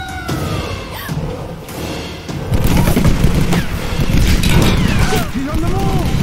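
A grenade launcher fires in Tomb Raider (2013), with heavy booms and explosive rumbles over dense combat noise, while voices shout throughout.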